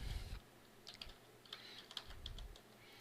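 Rapid, steady typing on a computer keyboard, with close, light clicks in uneven bursts and no voices.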